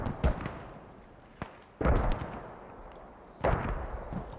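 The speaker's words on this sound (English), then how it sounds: "With the mortars." Mortar rounds from the Squad video game land in a few heavy booming blasts spaced about a second and a half apart, each with a rumbling tail, distant and muffled, with no voices.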